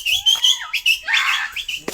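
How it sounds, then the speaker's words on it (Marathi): Bird calls ring out in a hilly outdoor trekking spot, a string of bright, whistled chirps and squawky notes, some rising and falling, heard close and clear with no talking. "जरा कोकिळा ऐकाव कोकिळा"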